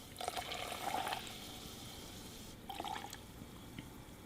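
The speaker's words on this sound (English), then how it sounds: "And now we have to add water." Water poured or dribbled into beer residue during a lab distillation, two short bursts of splashing trickle over a faint steady hiss, quiet and close.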